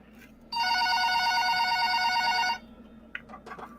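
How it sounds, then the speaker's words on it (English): A telephone on a shop counter rings in one steady, loud electronic burst lasting about two seconds, followed by faint rustling and small knocks. "About an hour later, the phone on the counter rang."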